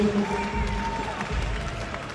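At a Muay Thai fight featuring Yodsanklai Fairtex and Vladimír Moravčík, an arena audience gives a steady wash of applause and crowd noise throughout, under an announcer speaking over a PA.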